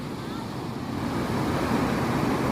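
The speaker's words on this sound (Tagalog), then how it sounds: "Sobrang lakas ng alon." Loud, steady roar of strong surf crashing close by, a dense continuous wash of water noise with wind buffeting the microphone.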